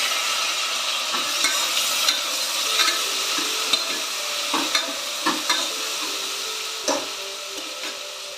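Chopped tomatoes going into a hot pan with green chillies for a home-cooked Tamil dish, a steady sizzle punctuated by repeated scraping stirs of a spoon, close and fairly loud.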